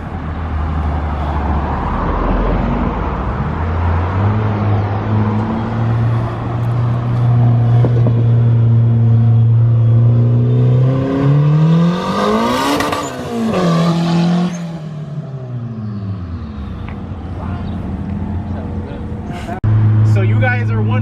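A turbocharged Honda Integra running on a dyno holds a loud droning engine note, then revs up to a high screaming peak before falling away and settling back, with voices talking nearby.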